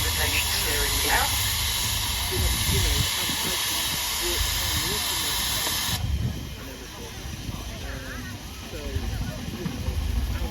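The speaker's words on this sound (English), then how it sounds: "Have you ever wanted to drive one of these steam engines?" Steam traction engines at an outdoor country show give off a steady, loud broadband hiss that cuts out sharply partway through, leaving a lower rumble of crowd noise and public-address talk underneath.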